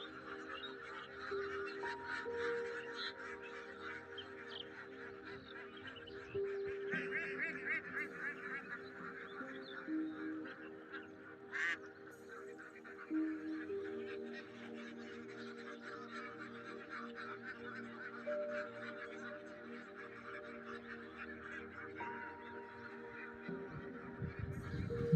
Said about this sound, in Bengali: এখন আমরা চলে এসেছি হাঁসের খামারের কাছে